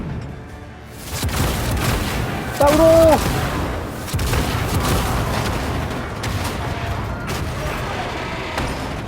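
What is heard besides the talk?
cannon fire in video game Warhammer 40000 Rogue Trader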